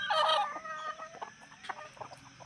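Country chickens (native fowl) clucking at close range, several overlapping calls with short squawks and rising cackles, loudest at the start and then continuing in scattered bursts without any talk.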